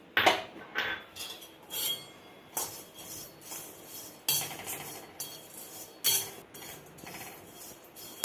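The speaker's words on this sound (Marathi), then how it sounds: "हे पन्नास ग्रॅम लवंग आहे ते पण मी भाजून घेणार आहे" Fifty grams of cloves dry-roast in a pan, stirred with a metal utensil that scrapes and clinks against the pan in irregular bursts, close and fairly quiet with no talking.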